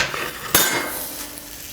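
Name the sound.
pepperoni sausage pizza sizzling on soapstone pan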